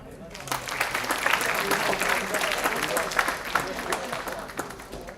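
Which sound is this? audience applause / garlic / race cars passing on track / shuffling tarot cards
audience applause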